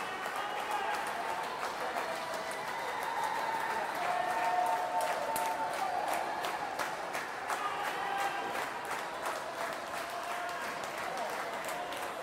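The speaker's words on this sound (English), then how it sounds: "Really encouraging her, clapping her on, cheering her on." Crowd at an aquatics venue during a 2012 Summer Games swimming race, clapping and cheering a swimmer on in a steady, dense roar that swells slightly midway, with commentary-like talk faintly underneath.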